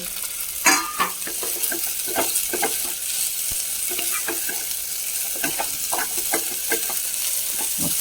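Cooked ragi vermicelli tossed and stirred in a hot pan for upma, giving repeated scraping spoon strokes over a steady close frying sizzle, with no talking.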